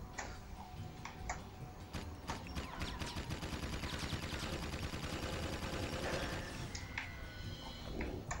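Rapid gunfire from the video game Jak & Daxter 2, a dense stream of quick repeated shots running steadily for several seconds at moderate level behind game sounds, with no talk.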